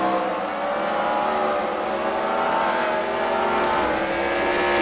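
Wrecker cars racing around a track at the Freedom Factory, a steady, loud drone of several engines with overlapping tones holding throughout, no voices.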